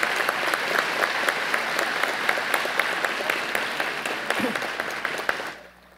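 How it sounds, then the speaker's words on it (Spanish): Dense applause from the audience at a university opening ceremony, steady and fairly loud for several seconds before cutting off abruptly near the end. "Muchas felicidades y fuerte aplauso al profesorado en la Dirección General del Medio"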